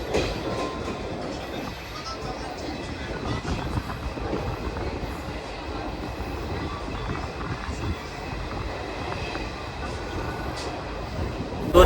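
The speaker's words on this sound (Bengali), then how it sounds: "তো ছেড়ে দিল তমলুক স্টেশন।" An Indian Railways train pulls out of Tamluk station, heard from inside a second-sitting coach as a steady rumble with rhythmic wheel clatter, and faint voices in the carriage underneath.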